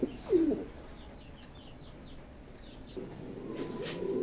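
Pigeons in a loft give soft, close coos in short bursts, with light chirps scattered between them against a quiet background.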